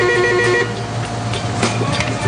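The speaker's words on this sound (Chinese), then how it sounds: "店内的外送电话就没有停过" A telephone rings with a repeating electronic tone in a busy Hong Kong-style roast meat restaurant taking delivery orders, over steady low room hum and background clatter.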